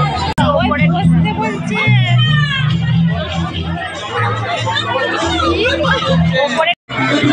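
Dense crowd chatter fills a busy wedding food queue, a steady indoor hubbub of many overlapping voices close around, with a brief dropout near the end.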